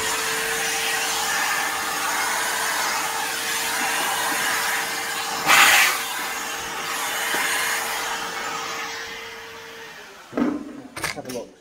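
A vacuum cleaner drones steadily and loudly while sucking up rust debris inside a Mk3 Ford Cortina under restoration, with a brief rattle of debris partway through and clunks as it stops near the end.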